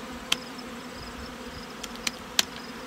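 Honey bees around late-season nuc hives give a faint steady hum with a few brief sharp buzzes as single bees fly close past, no talking.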